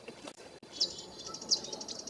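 A scrub jay gives a few short, faint calls at a distance along the Bear Creek Greenway in Ashland, over quiet outdoor background.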